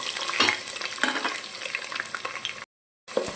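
Finely chopped large onions with green chilies frying in a pan, a steady sizzle broken by repeated scraping stirs, close and moderately loud, with a brief gap of silence near the end.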